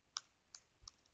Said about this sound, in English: Now on the screen, we need to type in a project name.